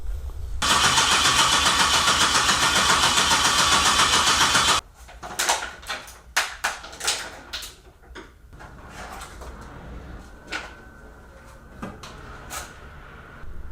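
A car engine with a newly upgraded turbo cranks with a loud, steady whirring starter for about four seconds, then catches and settles into an uneven, revving idle with sharp bursts, heard up close with no talking.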